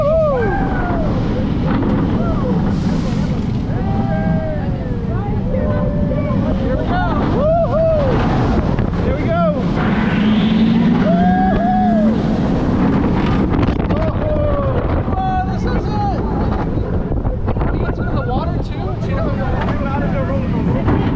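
A ride on the Cheetah Hunt roller coaster at Busch Gardens Tampa, with loud, constant wind roar buffeting the microphone and riders whooping and shouting excitedly over the rush.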